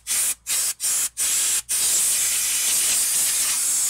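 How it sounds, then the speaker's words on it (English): Compressed air blasts dust and debris off the engine of a 2004 Toyota Tundra before a spark plug change: four short bursts, then one long steady loud hiss close by. "I like to clean this off with a little bit of compressed air, and so just to try to get some of this dust and debris out of there"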